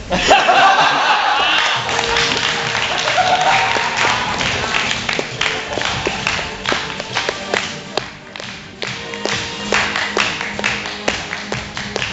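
Studio audience applause at a live comedy show, a dense wash of clapping that starts loud and gradually thins, mixed with scattered chuckles and laughter.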